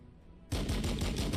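Tank weapons open fire in Warhammer 40K Battlesector, a sudden loud burst after a quiet half-second, then sustained rapid gunfire with rhythmic repeated shots close up.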